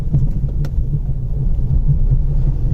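An off-road car crawls slowly through a small, shallow river stream on a forest track in Rajaji National Park. A steady, close, low engine rumble runs throughout, with no talking.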